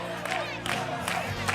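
A crowd of Konavle team supporters in green shirts cheers at a city games semi-final in Kaštela, with whoops and shouting swelling in waves. Bright voices rise over the cheering.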